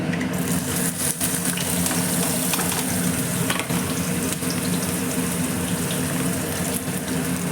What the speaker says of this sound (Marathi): मस्त आपलं तेल गरम झालं आणि त्याच्यात टाकू आपण गिलके